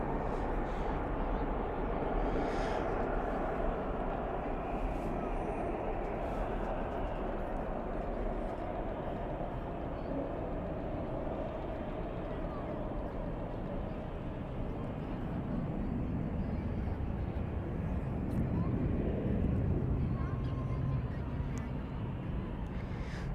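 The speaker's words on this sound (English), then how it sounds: "Here's the 737. Spoilers up, reversers out." A Boeing 737 landing at night at Dallas/Fort Worth airport with spoilers up and thrust reversers deployed, a broad distant roar that swells and fades steadily, with a voice talking throughout.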